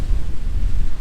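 Steady wind gusting across a pristine open beach, a continuous low roar buffeting the microphone with rumbling swells throughout, no voices.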